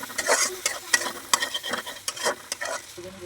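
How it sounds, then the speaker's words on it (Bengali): Onion and prawn-head masala with garlic is stirred and fried in a pan, a loud close sizzle broken by a steady run of scraping spatula strokes. "ভালো মতো ভেজে নিব পেঁয়াজ চিংড়ি মাথার মশলাগুলো ভালো মতো ভেজে নিচ্ছি"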